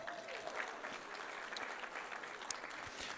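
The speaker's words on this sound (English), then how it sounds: "round of applause for that," A town hall audience for an East San Jose small business meeting gives a round of applause, a steady wash of many hands clapping at moderate distance, with a faint voice or two underneath.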